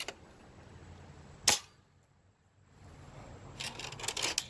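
Nerf Mega blaster firing Litake sticky-head darts: one sharp, close pop near the start, then a quiet gap, then a cluster of rattling mechanical clicks.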